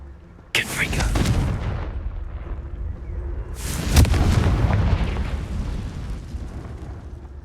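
Two loud, close blasts from the Confringo fire spell in Hogwarts Legacy, one near the start and another about three seconds later, each bursting sharply and then rumbling away under a dense game soundscape.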